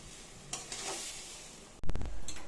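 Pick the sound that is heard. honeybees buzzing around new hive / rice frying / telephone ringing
rice frying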